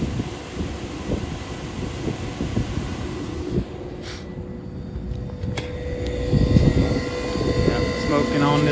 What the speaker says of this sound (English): That draft inducer sounds like shit.